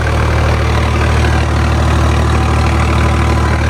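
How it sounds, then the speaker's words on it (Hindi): A new tractor engine runs at raised revs on a wet mung bean field, a loud, close, constant mechanical drone that holds steady with no voices over it. "लो भाई अर्राने लगा ट्रैक्टर।"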